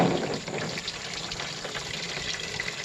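Dirty, watery coolant draining from the radiator of a 1994 Ford F-150, a steady splashing pour of liquid that starts a little louder, with no talking.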